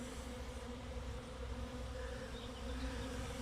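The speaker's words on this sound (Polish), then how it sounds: "No w trawie tam sporadyczne są jakieś pszczoły." A steady, close buzzing of bees in grass, droning continuously, with a low hum that hovers without pause.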